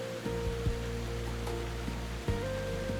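Tegenungan waterfall in the Bali jungle pours in a steady, broadband roar of falling water. A low tonal hum runs beneath it, with a few faint knocks breaking through, and no voices are heard.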